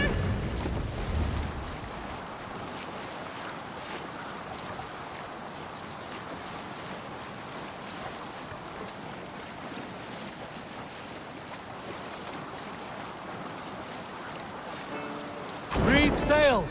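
Ship sailing on open ocean in Assassin's Creed Valhalla: a steady wash of waves and wind rushing along the hull, moderately loud and continuous, with a brief louder swell at the end and faint voices in the mix.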